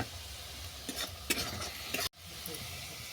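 Whole spices tempering in hot oil in a pan, with chili powder and turmeric going in for a masala: a low sizzle under brief stirring scrapes, then an abrupt break before the frying resumes.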